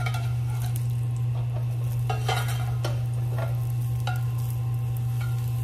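Portobello mushrooms sautéing in a pan give a light sizzle broken by intermittent clicks and scrapes of a utensil, all over a loud, steady low hum from a stovetop fan; no talking.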